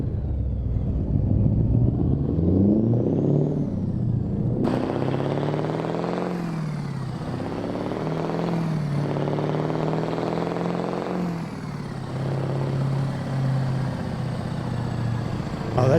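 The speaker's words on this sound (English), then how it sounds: "The crappy jake brake, which is very similar to the one in the movie." A truck's jake brake in American Truck Simulator rumbles loud and close, a harsh low engine drone that rises and falls in several sweeping pitch changes as the truck slows and shifts.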